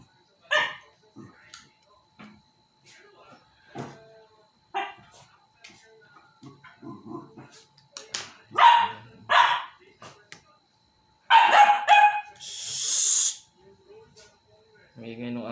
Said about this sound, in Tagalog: May ingay ng aso ko eh.